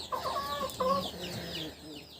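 Chickens cluck softly nearby, a few short calls close together over a quiet background.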